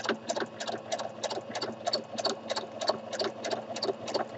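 A sewing machine does free-motion stitching around fabric appliques, its needle chattering in a fast, even rhythm of about four stitches per second, close and steady throughout.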